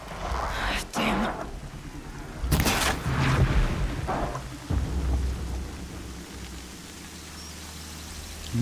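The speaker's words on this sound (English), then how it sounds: "Now it's raining." Rain and thunder in Horizon Zero Dawn: steady rainfall hiss under several rolling thunder cracks, one near and loud, with a person talking over it.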